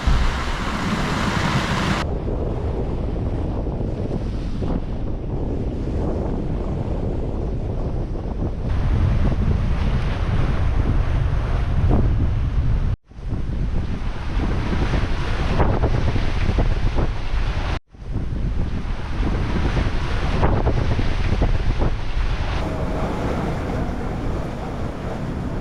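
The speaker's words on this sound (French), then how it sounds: "Nous avons eu un grain, le vent monté assez fort." Strong wind roars and buffets the microphone during a squall aboard a sailboat at sea, with waves and rushing water underneath, steady and loud throughout with a couple of brief cut-outs.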